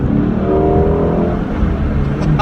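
Ford Shelby GT350 from 2017 revving hard while driving, heard through an open window as a loud, continuous engine roar with steady wind and road noise and no talking.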